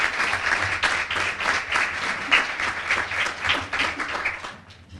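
An audience at a junior deputy awards ceremony applauds the deputies who teach the classes, a dense, steady burst of clapping from many hands that fades out at the end.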